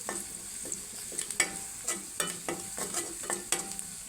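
Vegetables stirred into a fish curry in a pan: a scrape of the spoon repeats every half second or so, each stroke crisp and close over a low steady sizzle.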